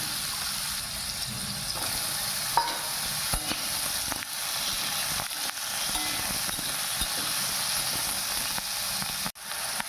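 Potato pieces sizzling in hot oil in a pan while being stirred for a moringa-flower chorchori, a steady close hiss broken by scraping and knocking of the spoon against the pan.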